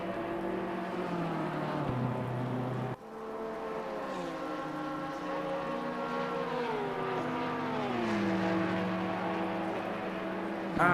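GT3 race cars lapping in the game Assetto Corsa Competizione, engine notes rising and falling in pitch as the cars pass through, with a sudden shift midway and a fairly quiet steady mix throughout.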